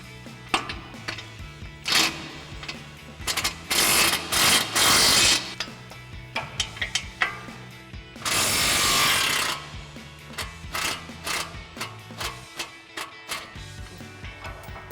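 An impact wrench with a 19 mm socket works a suspension bolt loose on a Ford F-150 during an upper control arm lift kit install. Two loud, rattling hammering bursts stand out among clanks and quieter handling noises, with no speech.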